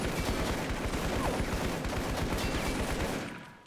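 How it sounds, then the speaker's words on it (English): Automatic fire from an M27 IAR with a 30-round magazine in the video game Call to Arms: a dense, continuous stream of rapid shots that holds steady, then cuts off and fades in the last half second. "The M27 IAR with a 30-round mag"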